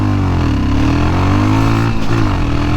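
A Royal Enfield Himalayan motorcycle accelerates hard, its engine note climbing steadily before a brief dip near the rev limiter, then resuming; loud and close with no talk.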